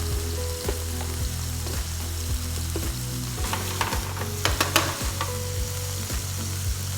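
Small beef pieces searing in a hot pan for beef with broccoli, a constant sizzle with rhythmic spatula scrapes and a few sharp clinks, no talking.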